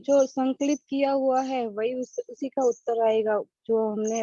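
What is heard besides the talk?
None of the usual background noises is heard.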